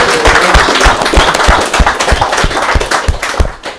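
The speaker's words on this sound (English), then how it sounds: "Hey, give me a cheer." A small audience at a recovery celebration claps and cheers loudly and steadily, dense, close applause with sharp individual claps throughout.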